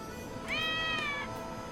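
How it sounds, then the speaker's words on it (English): A cat meows once in the Lost Judgment video game, a clear drawn-out mew rising and then holding steady for under a second over a soft background hum. "I am playing with kitty cats."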